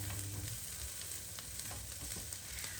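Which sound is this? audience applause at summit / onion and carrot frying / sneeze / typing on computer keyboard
onion and carrot frying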